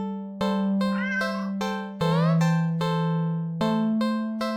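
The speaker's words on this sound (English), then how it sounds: "Oh, it's a friendly cat." A friendly cat in a game gives a string of clear, close meows, about ten short tonal calls in steady succession over a soft sustained musical drone.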